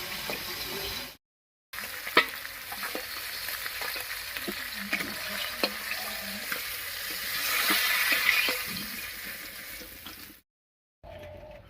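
Fresh fish fries lightly in hot oil in a home kitchen, a steady close sizzle and crackle with scattered pops and stirring scrapes, briefly swelling louder before it cuts off.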